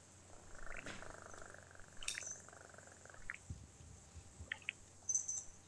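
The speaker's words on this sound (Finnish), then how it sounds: "Mitä se tuli kehräämään meille se kissa?" A cat purrs softly and close by indoors, a quiet low rumble with faint scattered rustles and small clicks around it and no talk.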